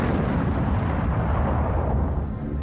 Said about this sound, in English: For a fiery explosion, mortars with gasoline were set directly behind every window.